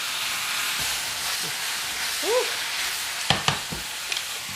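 Thin pork stir-frying with shiitake mushrooms, red and finger chilies, carrots and sugar sizzles steadily in a hot pan, a continuous frying hiss with a few sharp clinks of utensils near the end.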